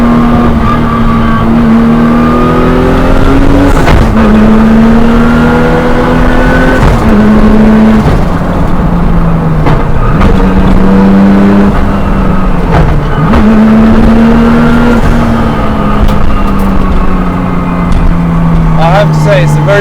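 A Nissan Skyline R34 GT-R pulls hard under acceleration, its loud engine note climbing steadily and dropping briefly at each quick gear change before rising again, continuous throughout.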